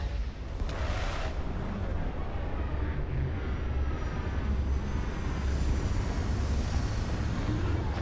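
Spaceship retro thrusters fire during a Starfield landing, a steady, loud roaring rumble that holds for several seconds without a break.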